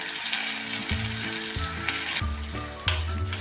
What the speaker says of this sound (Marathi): हा कांदा आपण चांगला भाजून घ्यायचा आहे कांदा बघा कसा छान भाजत आलेला आहे